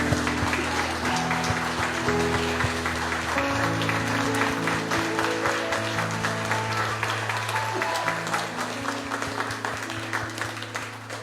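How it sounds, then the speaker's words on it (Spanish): Worshippers clap during a church service while music keeps playing underneath, a sustained wash of applause mixed with held instrumental tones that slowly thins toward the end. "Le damos un aplauso al Señor"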